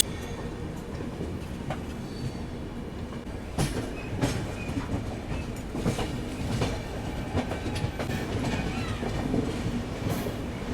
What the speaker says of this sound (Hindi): हमारी ट्रेन निकल चुकी है पिपरा रेलवे स्टेशन से।